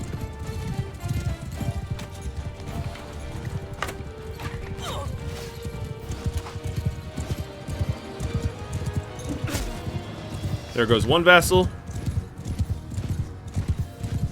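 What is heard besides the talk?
horses galloping in Mount and Blade Bannerlord video game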